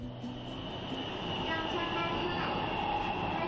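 A Shanghai Metro Line 2 train at Zhangjiang Hi-Tech station gives a steady rolling rumble with a faint high whine. It grows slightly louder and fuller over a few seconds.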